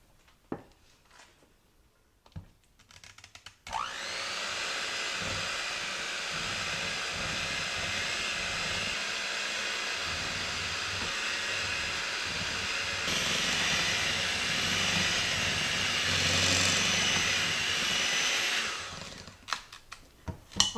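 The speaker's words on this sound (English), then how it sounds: "we're going to blend this on low speed until we get the powdered sugar kind of mixed in" Electric stand or hand mixer blending peanut butter with powdered sugar for buckeye pretzel bites, starting on low speed; a steady, loud motor whir runs for about fifteen seconds, stepping up in intensity partway through, with brief handling clatter before and after.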